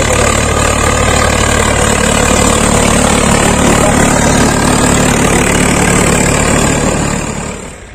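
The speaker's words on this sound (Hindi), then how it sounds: "सामने जो ट्रैक्टर दिख रहा है भाइयों स्वराज का 855 है भाइयों" Close, loud, steady idle of a Swraj 855 tractor engine, a constant low diesel rumble with no break for the whole stretch.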